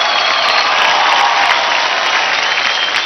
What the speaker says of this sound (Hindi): फैंटास्टिक, कमाल का जोरदार तालियां हो जाए सृष्टि और सुनिकेता के लिए।